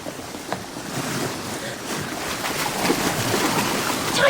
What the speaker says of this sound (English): Listen. The sea.